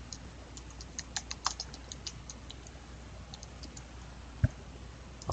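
Light typing of a name on a computer keyboard, scattered soft key clicks over a faint steady background hum, with one sharper click near the end.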